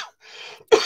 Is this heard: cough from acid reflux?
yes